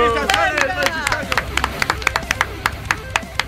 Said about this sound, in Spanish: ¡Un aplauso para Cristian Sales!